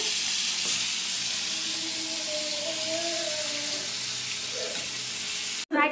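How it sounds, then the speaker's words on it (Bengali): Prawns fry in oil in a pan with a steady, close hiss that fills the clip, broken by a brief rattle near the end. "তো এক এক করে সবগুলোকে চিংড়ি মাছ ফ্রাই করা হবে"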